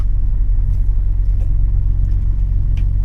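A heavy truck hauling a load of cocoa in big sacks on pallets toward Dresden: a steady, loud low engine and road rumble from inside the cab, continuous with no breaks.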